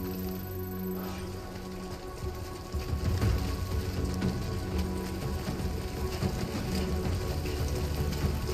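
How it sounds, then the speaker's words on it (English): Rain falls steadily in the video game Death Stranding 2, a dense patter of drops on surfaces that swells louder partway through and keeps on evenly. "Great. Rain. Gotta move."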